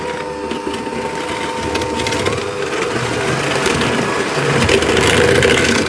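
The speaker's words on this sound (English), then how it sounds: "I'm going to whisk those with my hand mixer." An electric hand mixer whisks brownie cookie batter, a close, loud motor whir with rattling beaters scraping the bowl, rising slightly in pitch and intensity as it runs.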